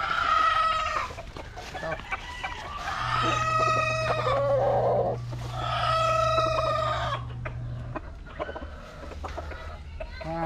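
Stag roosters crow loudly and repeatedly at close range, with clucking between the calls, while someone speaks briefly over them.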